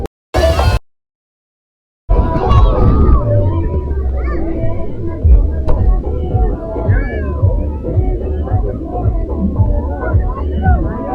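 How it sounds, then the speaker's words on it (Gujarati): Crowd gathered to watch a mermaid show, a dense babble of many voices and chatter filling the space after a short tone and a brief silence at the start. "બધા આ બધી ભીડ છે ને આ જલપરી જોવા માટેની થયેલી"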